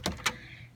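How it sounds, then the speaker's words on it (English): Big door of a backyard chicken coop being opened or closed, two quick knocks or clunks followed by a fading scrape, close by and fairly quiet. "we use this, you know, this big door to get in and out"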